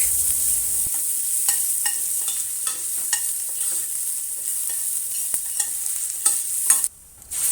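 Chopped ginger, garlic and green chilies stir-fry over low heat in a pan, a bright steady sizzle broken by repeated spatula scrapes and taps, close and alone.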